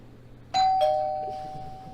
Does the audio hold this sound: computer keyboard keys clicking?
no